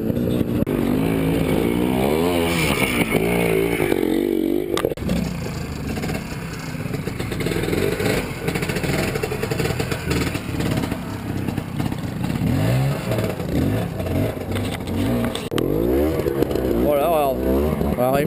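A trial motorcycle engine revs and sputters up and down close by during a trial riding event, with bursts of acceleration and clattering, while people talk over it.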